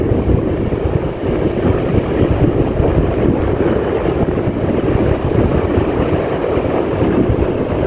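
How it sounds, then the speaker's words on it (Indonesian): Big ocean waves crash and churn under strong wind gusting across the microphone, a loud, continuous rumbling wash with no voices. "Ombaknya besar Baraya, uy."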